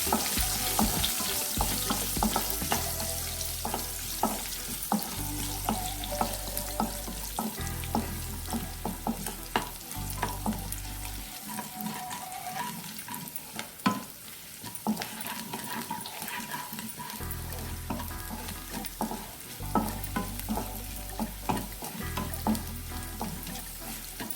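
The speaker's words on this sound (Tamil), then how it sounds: "நம்ம பூண்டு ஆட் பண்ணிக்கலாம். நல்லா வறுத்துக்கலாம்." Garlic sizzles in hot oil for a banana stem kara kuzhambu, a continuous bright frying hiss with repeated stirring scrapes across the pan over a low, pulsing background hum.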